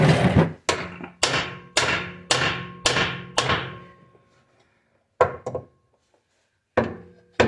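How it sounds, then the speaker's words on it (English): Heavy hammer blows strike metal suspension parts on a 1991 Honda Civic in a steady run of about seven ringing hits, then a pause and a few more isolated strikes, close and loud. "Sometimes you just gotta use a real hammer though."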